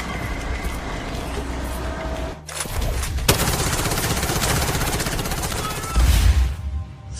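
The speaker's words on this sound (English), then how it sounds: "You can shoot from guns, assault and sniper rifles of different models." Assault and sniper rifles fire in a mobile first-person shooter battle, with sustained crackling bursts of gunfire, a sharp loud shot near the middle, and a heavy low boom toward the end.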